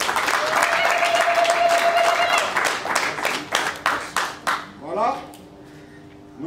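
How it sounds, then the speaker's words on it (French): Wedding guests applaud at a civil marriage ceremony, dense clapping that thins into a few separate claps and fades, with voices talking over and after it. "applaudissez pour le papa"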